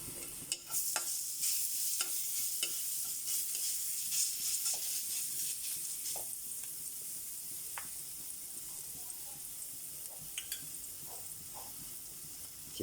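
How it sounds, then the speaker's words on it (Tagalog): Garlic sizzles and fries steadily in a hot pan for a Filipino nilaga and ginataang biya meal, with occasional stirring scrapes and clicks over the continuous hiss. "Lagyan na po natin yung bawang."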